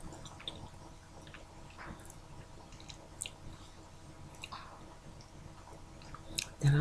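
Graham crackers and raisin toast being chewed close to the mic, soft wet mastication with scattered small crunches and squishy clicks in a quiet room, no talking.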